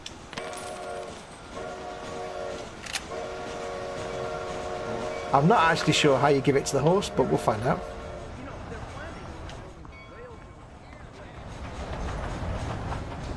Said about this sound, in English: I hear a train. That'll be a train then.